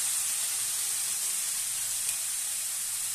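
Cabbage sizzling in a hot pan for pachadi, a steady, close, continuous hiss with no talk.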